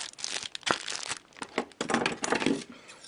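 Plastic packaging crinkles as a KHL hockey card case box is opened, with close, irregular bursts of crackling and rustling and no speech.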